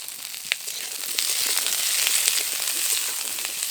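Mixed vegetables fry in hot oil in a wok, giving a steady, loud, close sizzle with scattered sharp pops and crackles throughout, and no one speaks.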